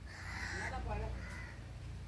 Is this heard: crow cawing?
yes